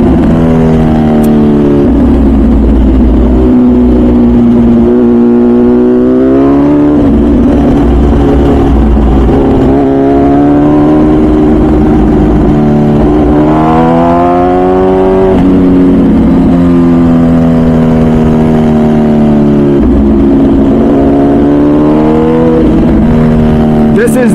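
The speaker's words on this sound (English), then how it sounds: "You can for sure feel the front wheel go up in the air slightly by just even remotely being aggressive on the throttle in second gear" A 215 hp MV Agusta Brutale 1000 RR naked superbike is ridden hard at the Nürburgring, its engine note climbing steeply through repeated throttle pulls in second gear. The loud, close engine runs under a rider's voice talking throughout.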